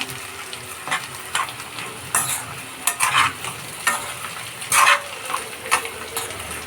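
Curry frying in a pan sizzles steadily while a spoon stirs it, giving repeated scraping strokes every second or so, close and clear with no talk.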